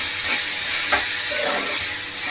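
Egg pepper masala sautéing in a pan, a continuous close hiss and sizzle with a few soft scraping stirs.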